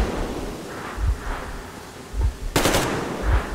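Gunfire in the video game Metro Exodus: a sharp burst of rapid automatic shots stands out briefly amid low rumbling thuds and background game noise.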